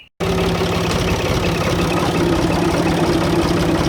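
A tractor engine runs steadily at idle, a continuous low rumble with a throbbing vibration that holds even and loud from start to finish with no voices.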